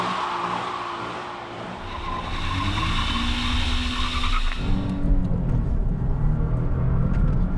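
A base-trim 2018 Nissan 370Z driven hard on Tennessee roads: loud, close engine roar climbing through revs with a shift partway, tire and wind noise building, no talk.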